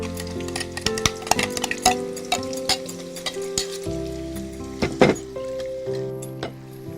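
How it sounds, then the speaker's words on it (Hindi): Spice paste fries in hot oil, crackling and sizzling in uneven bursts, with sharp clinks and scrapes from stirring close by, no talking. "और पेस्ट को गरम तेल में डालकर फ्राई करें।"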